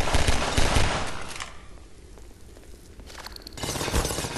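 A burst of rapid automatic turret gunfire in Half-Life 2 Episode 1 rattles loudly, drops into a quieter lull and then opens up again, with no talking.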